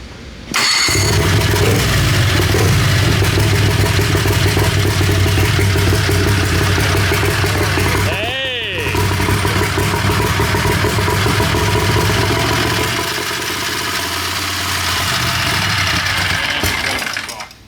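A fuel-injected, turbocharged Harbor Freight 670 V-twin engine runs loud and close at a steady rumble, with a brief sweeping whine midway as revs rise and fall, then settles back to a lower idle.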